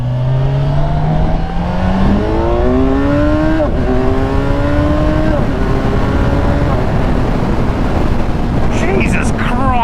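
A Kawasaki Ninja 1000SX accelerates hard on a snowy road, its engine note climbing steadily through several gear changes, loud and close over heavy wind rush.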